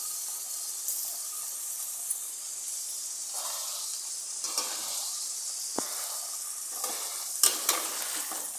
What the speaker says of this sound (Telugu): ఈ సాల్ట్ టర్మరిక్ పౌడర్ కాకరకాయలకు పట్టేలాగా ఈ విధంగా మిక్స్ చేసేసుకోవాలి